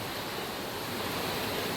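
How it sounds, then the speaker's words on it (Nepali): A village stream gurgles and rushes in a constant, dense wash of water noise, fairly close and steady throughout the short stretch, with no voices. "खोला नालाको कलकलाउँदो पानी, कलकल गरेको आवाज"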